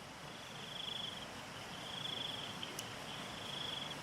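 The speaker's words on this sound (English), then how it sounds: "No one liked our crickets, so we're getting rid of the crickets soon." Crickets chirp in steady, rhythmic pulses, faint and continuous against a quiet indoor background, with no talking.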